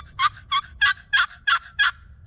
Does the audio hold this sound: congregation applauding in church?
no